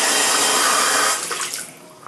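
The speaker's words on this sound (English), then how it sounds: "So this sink's pretty cool. Got the waterfall." Water pours from a waterfall-style sink faucet in a loud, close, steady hiss that fades and trickles off toward the end.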